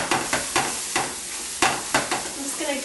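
A spoon chops sausage in a frying pan on medium-high heat, about eight sharp scraping knocks in an uneven rhythm over a constant close sizzle, with no voices.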